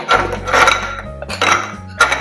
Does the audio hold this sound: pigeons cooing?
no